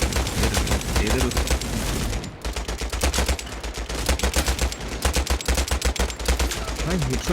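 A WW2 shooter video game fires rapid bursts of gunfire that crackle in dense, loud volleys with a short gap midway. Voices can be heard faintly underneath.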